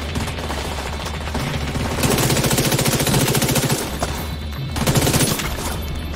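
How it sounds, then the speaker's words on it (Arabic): Machine gun fire in the shooter game The Division 2, sustained rapid automatic bursts with a steady crackling rhythm, loud and close, pausing briefly between longer volleys over a low background rumble. "يا السلام المدفع الرشاش."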